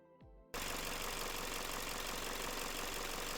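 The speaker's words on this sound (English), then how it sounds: "So the last thing I made is the ambience sound. It's made from car engine." A dense, droning car engine rumble, heavily processed into sci-fi ambience, switches on abruptly after a brief tone and holds steady, loud throughout.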